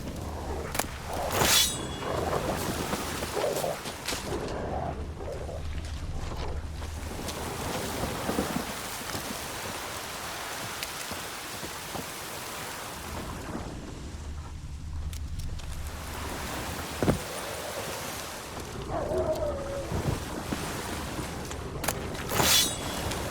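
Stormy wind and rough sea in The Witcher 3: gusting, roaring wind over churning waves, with surges and lulls and a few sharp bursts, loud and continuous with no voices.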